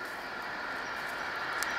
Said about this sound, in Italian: Senti un po' il treno che adesso passa.